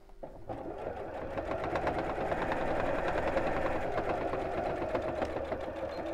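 A sewing machine stitches a straight seam through thick patchwork fabric for a cushion cover, a close, steady mechanical chatter that runs without a break.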